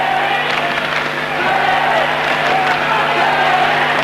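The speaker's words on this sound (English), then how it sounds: "And now the crowd chants for Behic." Fight crowd at a combat sports event chanting for a fighter making a tough return after a long break, a steady, dense roar of many voices sustained throughout under faint commentary-like talk.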